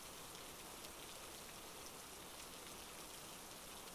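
Soft, steady rain falls as a constant hiss of drops on a surface, faint and unbroken with no voices.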